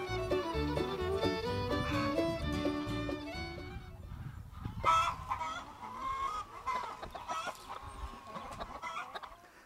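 Hundreds of chickens cluck and squawk together inside a quarter-acre enclosure of electrified feather netting on Polyface farm, a dense, continuous chorus of overlapping calls close by, with sharper individual cries standing out in the second half.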